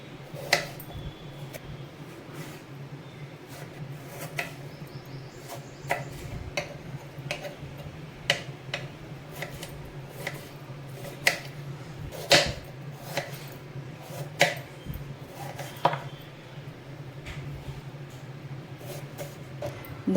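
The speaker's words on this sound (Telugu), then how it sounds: "దోసకాయలను అయితే ఇలా సన్నగా కట్ చేసుకోవాలండి." A knife taps against a cutting board in light, irregular strokes as peeled, seeded cucumber is sliced thinly, each chop a soft, fairly close click over a faint background hum.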